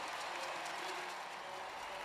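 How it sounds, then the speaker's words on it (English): Dense, steady roar of a large stadium crowd at a Paralympic athletics race at the London 2012 Games, with applause and cheering sustained evenly throughout, heard from a distance. "don't the crowd make a fantastic backdrop in this stadium"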